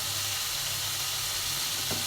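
Onion stalks sizzle steadily in a pan over medium heat as they are stirred, giving a constant close hiss of frying with a low rumble underneath and a brief scrape near the end, with no voices.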